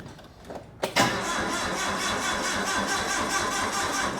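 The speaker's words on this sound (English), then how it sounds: "I'll get the forklift going first" A forklift engine cranks briefly, then catches and settles into a steady, fairly loud running drone that holds for several seconds with no talking.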